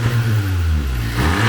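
A 2017 Honda Civic Touring engine with its stock blow-off valve revs close by, a loud continuous mid-pitched engine drone that rises and falls slightly, with no voices over it.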